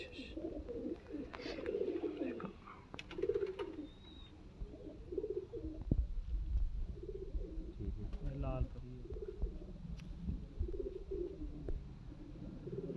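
Teddy pigeons coo at a breeder's house in soft, repeated throaty phrases, with several birds murmuring close by against a faint background and a voice occasionally heard.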